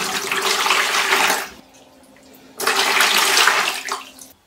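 Bleach and water are poured into a basin in two loud splashing pours, separated by a brief quiet pause, the second ending abruptly.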